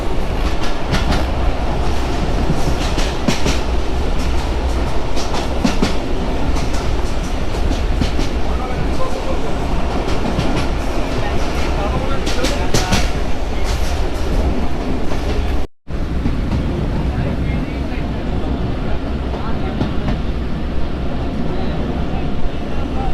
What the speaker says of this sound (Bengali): প্রচণ্ড গতিতে চলতেছে ট্রেন